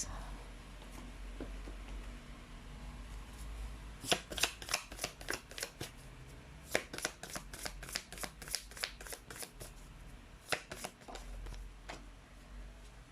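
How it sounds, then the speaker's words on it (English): Tarot cards being shuffled by hand in a quiet room, a long run of crisp riffling bursts in quick, uneven succession, close and fairly soft, with no talking. "let's try to pull up another set of cards"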